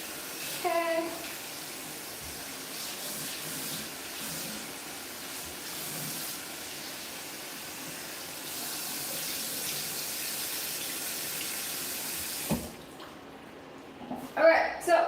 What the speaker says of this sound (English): I am going to re-wet my hair before I start applying my products.